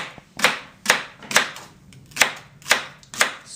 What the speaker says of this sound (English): So we have to cut the leek in little slices like that